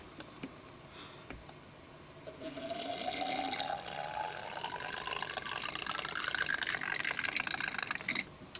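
Transmission oil is squeezed from a 100 ml medical syringe through a small tube into a Tomos A35 moped engine, making a faint liquid trickle with a rising gurgling pitch as it fills, close and without talk.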